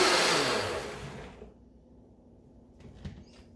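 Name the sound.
mixer blending tomato sauce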